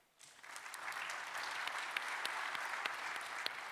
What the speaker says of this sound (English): Let's give a round of applause to Michele.